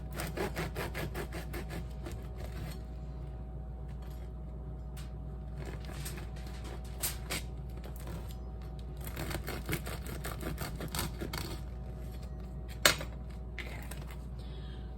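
A serrated knife saws crisscross cuts into a cheesy bread loaf, making repeated rasping strokes in short bursts over a steady low hum, close and fairly quiet, with no voices.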